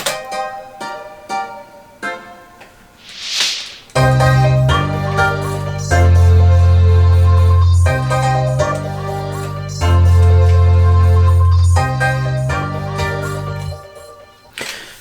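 A Guitar Friday Night in SF synth patch from the Xpand!2 plugin plays sparse plucked guitar-like notes, then comes in fuller and loud with deep bass in a repeating pattern, with no talk.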